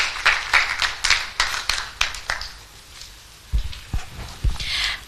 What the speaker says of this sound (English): give yourself a round of applause and thank you so much